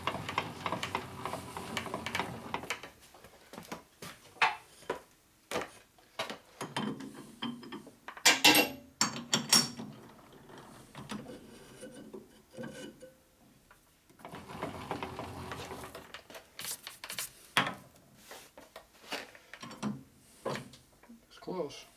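Honing a 3/4 inch motorcycle transmission axle, intermittent scraping and ratcheting strokes with metallic ticks in uneven bursts separated by quiet gaps, close up.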